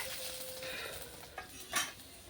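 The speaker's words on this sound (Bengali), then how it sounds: "দেখুন পুরনের সরষেগুলো একদমই ভাজা হয়ে গেছে।" Mustard seeds fry in a pan for tomato chutney, with a faint steady sizzle and a couple of light stirring scrapes.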